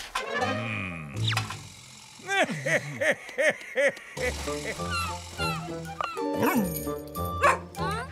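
A dog barks several times in a quick series, mixed with voices and busy music-like sounds in a lively, cartoonish scene.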